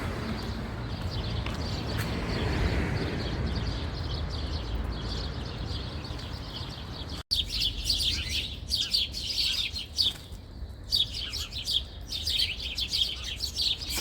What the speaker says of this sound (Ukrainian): тут дуже багато десь пташок. Вони вітаються з вами